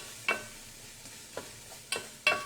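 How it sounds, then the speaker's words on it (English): Vegetables sauteing in a pot, with a soft sizzle underneath and four sharp, separate utensil scrapes or taps spaced irregularly, close and fairly quiet. "Sauteing your ingredients like this really brings out a lot of the flavors"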